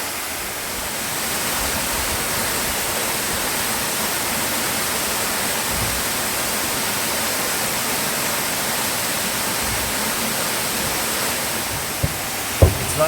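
Water rushes along a levada channel in Madeira and flows down into a valley, a steady, loud, broadband rushing that holds constant with no voices.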